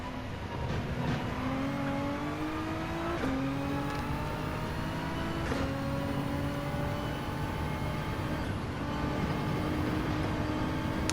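A Gran Turismo 7 Gr.3 race car engine at Autodromo Lago Maggiore roars loud and steady in continuous high revs, with several quick gear-shift drops in pitch and no talk.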